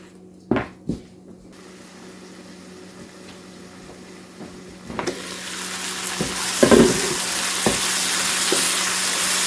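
Garlic and onions fry in a pan in a home kitchen, the sizzle swelling louder after several sharp knocks of pots and utensils, with a steady background hum and no talking.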